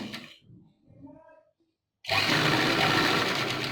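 A sewing machine stitching a back neck design on fabric, starting after soft talk and then whirring steadily and close for the last couple of seconds.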